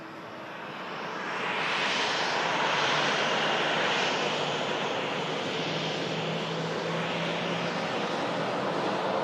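Etihad airliner engine roaring steadily at an airport as the jet pushes back for Abu Dhabi, a broad rumble swelling over the first two seconds and then holding loud and constant, with no talk.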